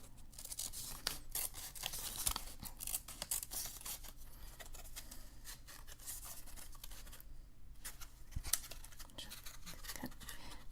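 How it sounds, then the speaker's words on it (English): Scissors snip around a paper Möbius strip in a quiet ASMR setting, making rapid, crisp, close-up cuts and faint paper rustles in a near-continuous series. "I'm just going to start cutting around"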